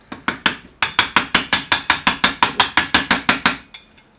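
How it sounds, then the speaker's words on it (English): A rapid series of about seventeen sharp metallic hammer taps, close and loud, tapping an alternator pulley into place on a Porsche 928, falling into a steady rhythm before a short pause and two final lighter taps. "which I'm going to have to tap in place with a hammer"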